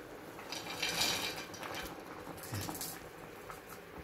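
A pot of water at a rolling boil on a truck driver's cooking stove, a steady soft bubbling patter with faint clinks of pots and utensils throughout.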